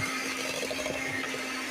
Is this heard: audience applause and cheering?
no